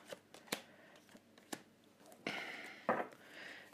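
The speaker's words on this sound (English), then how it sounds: "Let me get these cards." Tarot cards shuffled by hand at a reading table, giving a few quick riffles and flicks with brief pauses between them, close and fairly soft.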